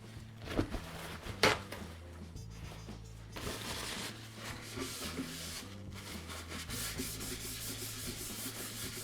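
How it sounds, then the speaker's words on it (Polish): Steady rubbing and scraping as paper wipes a surface clean of cleaning agent, close up, with a couple of sharper knocks early on, then continuous brushing strokes. "wezmę kawałek papieru, żeby to wytrzeć"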